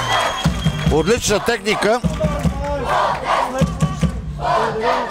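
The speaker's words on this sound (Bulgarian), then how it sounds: "печели овациите на публиката" A crowd at an under-12 youth football match between Botev Vratsa and Beroe makes a lively, fairly loud roar of voices and cheers, running under a commentator who talks throughout.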